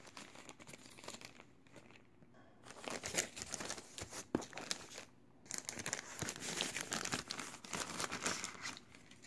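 A packaged 1932 record is slid out of its paper sleeve with steady crinkling and rustling, close and fairly quiet, broken by brief lulls and rising in louder bursts toward the end, with no speech.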